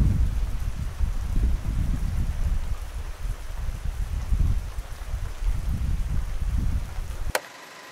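Wind rushes steadily through pine trees on a cold mountainside in Kibungan, Benguet, a broad, rain-like roar that surges and eases in gusts and then cuts off abruptly near the end.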